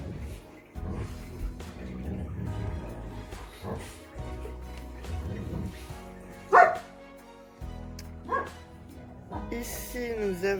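Dogs playing on an armchair indoors, barking and yipping in short bursts with a few louder sharp barks, heard near and mixed with background sounds.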